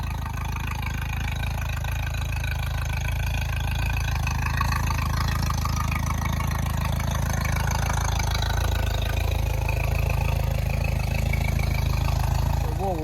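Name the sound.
Suzuki outboard boat motor running at idle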